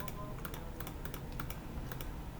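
Soft, rapid clicks of a computer keyboard and mouse tap out an irregular rhythm, faint and close against a steady background hiss.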